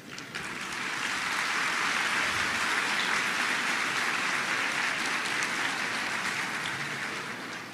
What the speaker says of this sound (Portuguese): As palmas é para o Kardec